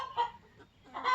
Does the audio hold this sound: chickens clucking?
yes